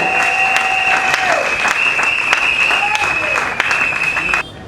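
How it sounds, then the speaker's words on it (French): A church congregation at a farewell service for a pastor bursts into sustained loud applause and cheering, with a voice and tones ringing over the clapping before it cuts off abruptly. "Est-ce qu'on peut accueillir le relégat avec nos acclamations?"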